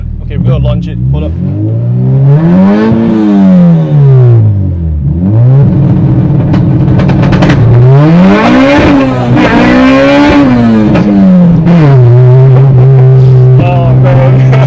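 A fully restored K20A-swapped Honda EK hatchback launches with launch control, its engine revving hard in rising and falling sweeps, loud and close, with people talking over it.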